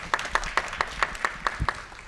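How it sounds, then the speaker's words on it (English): At a school board meeting, a small audience claps in an even, regular rhythm, about eight crisp beats in quick succession, fairly close and with no talking. "we'll clap for her"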